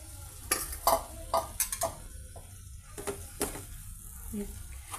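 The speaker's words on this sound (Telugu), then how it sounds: "టమాటా పేస్ట్లో ఈ చిక్కుళ్ళ పీసెస్ని ఈ విధంగా మిక్స్ చేసేద్దామండి." Boiled broad beans are stirred into a tomato paste curry in a pan, a spoon scraping and clinking in irregular bursts over a faint low sizzle, close and fairly quiet, with no talking.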